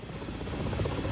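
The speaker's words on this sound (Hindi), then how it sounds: "बाकी हेलीकॉप्टर्स के इंजन को जांचा जा रहा है, हमले से पहले कोई तकनीकी दिक्कत ना आए" The engine of a Mi-17 military helicopter runs during a pre-mission check, giving a steady, loud turbine roar with a throbbing low rotor beat underneath that stays constant and close throughout, with no voices.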